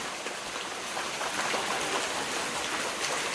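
Heavy monsoon rain pouring down outside a village house, a dense, unbroken roar of drops on surfaces, loud and steady, with no voices over it.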